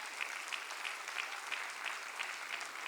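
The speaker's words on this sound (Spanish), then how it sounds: "Denle aplauso al Señor una vez más." A church congregation applauds during a sermon, giving a continuous, fairly soft wash of clapping for three seconds with faint rhythmic accents.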